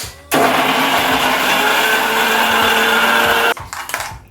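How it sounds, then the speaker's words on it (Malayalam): A kitchen mixer grinder whirs loudly and steadily for about three seconds, pulverising small cut pieces of mango with no water added, then cuts off abruptly. "ചെറിയ പീസായി കട്ട് ചെയ്തിട്ട് നമ്മളിനി ഇത് മിക്സിയിൽ ഗ്രൈൻഡ് ചെയ്യാൻ പോകുന്നു"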